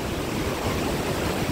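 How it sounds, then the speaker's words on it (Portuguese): Steady sea surf washing around someone standing in the water at a crowded beach, a dense continuous rush with some wind buffeting the microphone. "Estamos dentro do mar"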